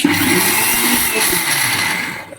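Mixer grinder whirring loudly as it grinds soaked urad dal with cold water, a dense steady motor roar that tapers off at the end.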